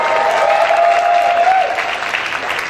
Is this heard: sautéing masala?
no